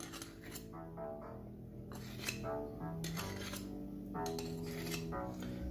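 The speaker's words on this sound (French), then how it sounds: "Tu racles sur l'autre cuillère dans ce sens-là." A spoon scrapes a portion of meringue against another spoon while shaping quenelles for île flottante, a repeated series of soft metallic rasps and scrapes in steady strokes, close and quiet with no talk.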